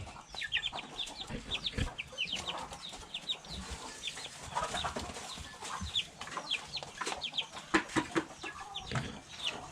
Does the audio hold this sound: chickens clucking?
yes